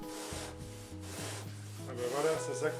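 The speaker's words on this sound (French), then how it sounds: "on a acheté une scie à isolant qui promet d'être plus efficace que le couteau à isolant qu'on utilisait" Insulation saw cutting a wood fibre insulation panel in a house renovation, giving a faint rhythmic rasping with repeated back-and-forth strokes, a hum in the background and brief murmured voices.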